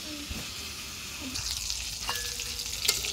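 Pangas fish and beans frying in oil, a steady close crackling sizzle with occasional spatula scrapes and a sharper clink near the end, no voices.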